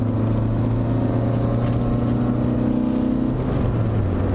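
Mazda MX-5 engine holding high revs on the move along a bumpy road, a steady loud droning hum with constant road and wind noise, no voices over it.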